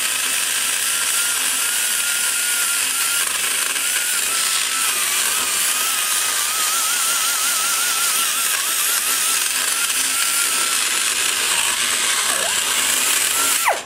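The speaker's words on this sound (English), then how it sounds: "All I'm doing with this cutter is barely breaking the edges of the iron." A rotary iron cutter grinds the edges of a cast-iron engine head port on an LT-1 engine. A continuous high-pitched whine holds steady throughout with slight wavering, close and loud, with no speech.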